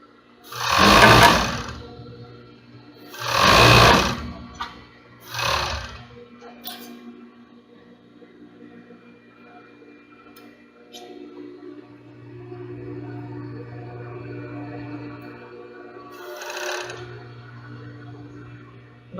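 A sewing machine runs in three loud, short bursts while stitching the seams of a baby doll garment, followed by a lower, softer run of stitching and one more brief burst near the end.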